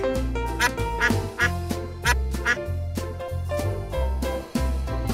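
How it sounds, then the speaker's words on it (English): A domestic duck quacking in a rhythmic run of loud, nasal calls, close and clear, repeated steadily across the clip with short gaps between them. "Duck."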